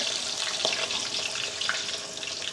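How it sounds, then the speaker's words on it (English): Chicken wings fry in a pan of very hot grease, giving a steady, dense sizzle that holds at one level throughout, close and loud, with a few faint clinks and no voices. "I'm gonna feed it in here like that, one at a time."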